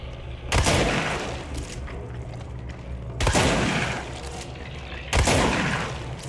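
Ballistic ground slam ability impacts in the video game Control: three heavy, booming crashes spaced a couple of seconds apart, each loud and broad with a rumbling tail, over a constant game ambience.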